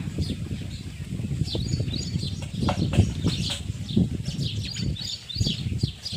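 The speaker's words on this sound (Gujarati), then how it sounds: "તો બધાય ચકલા આવી ગયા હમણે જો" Sparrows flutter and chirp nearby as they flock to scattered grain, with bursts of wing flapping and scattered tweets over a low rustling background.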